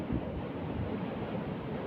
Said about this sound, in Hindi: नदी का विकराल रूप है